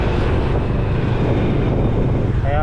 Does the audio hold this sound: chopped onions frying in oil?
no